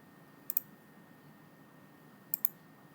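Computer mouse clicking as items are dragged and dropped in TIA Portal V17 software, two quick double clicks about two seconds apart over faint room hiss, close and crisp.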